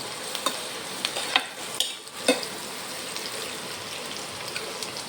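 Food, onions and spices being roasted in a pan, sizzling softly and fries steadily, with a few sharp stirring clicks and scrapes scattered over the quiet crackle.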